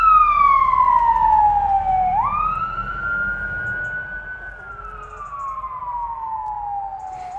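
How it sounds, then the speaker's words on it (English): An emergency vehicle siren sweeps past outdoors, a loud wailing tone that falls, jumps back up and slowly glides down again as it passes by. "Here's the siren right on cue."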